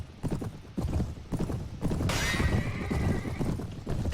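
A horse in the video game Mount & Blade: Warband, running with close, rhythmic hoof clops, then a loud neigh partway through, all up front with no talk.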